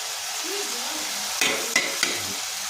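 River snails (gogli) being cooked in a ginger, chilli, cumin and garlic paste with a little water, giving a steady close sizzle and simmer with a few sharp clatters of stirring near the end.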